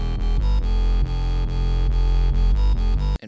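Sub and bass synths layered together into one thick, distorted bassline, a loud, sustained low drone broken by quick rhythmic cuts, ending in an abrupt stop, with no voices.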